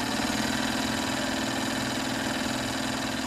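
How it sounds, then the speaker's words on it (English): A cartoon sewing machine whirs steadily as it stitches a dress, a dense, even mechanical buzz with rapid pulsing, loud and continuous, alone without talk. "He's sewing something."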